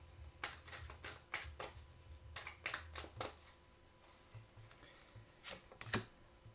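Oracle cards drawn and laid down on a table make a run of soft, quick papery taps and slides in irregular clusters, close and fairly quiet, with no talk over them.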